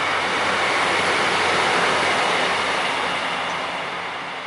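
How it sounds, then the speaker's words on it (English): A train passes close by as a loud, continuous roar of rolling wheels that fades slightly toward the end. "I think these trains wait for me to come here now."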